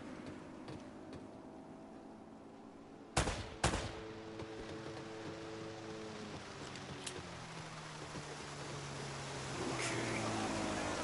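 Gunfire in a shootout in the video game Uncharted: Drake's Fortune, a couple of sharp, loud shots standing out over steady ambient noise and music, followed by scattered fainter bangs.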